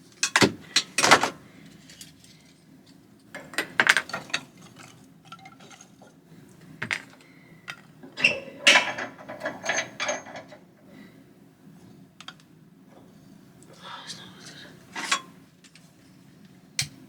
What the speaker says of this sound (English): But I'm going to stoke the fire up now and get it ready for the day.